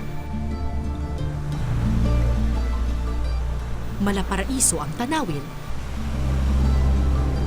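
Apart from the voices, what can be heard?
Pacific Ocean waves and wind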